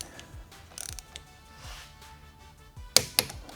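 A wrench ratchets frame slider bolts tight on a 2025 Honda Grom, giving bursts of quick mechanical clicks with a couple of sharper metallic snaps near the end, close and alone.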